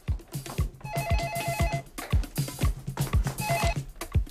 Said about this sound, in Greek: Σήκωσε το τηλέφωνο.